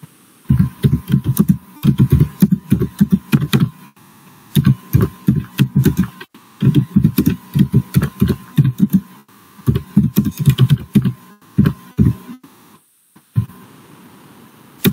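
Bursts of fast typing on a computer keyboard, close and crisp, coming in stop-start runs of clicking keys with short pauses between, over a faint steady electrical hum.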